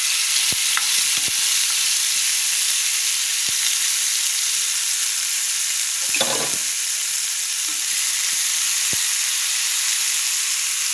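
Salted, turmeric-coated elephant foot yam pieces fry in oil over low heat, giving a continuous soft sizzle and hiss with a few sharp clicks and a brief louder scrape of stirring midway; no speech.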